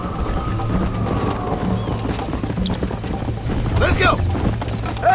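Horse hooves clip-clop steadily in the Xbox 360 game Red Dead Redemption, run on an emulator, under a low rumbling ambience with a brief whinny-like call near the end.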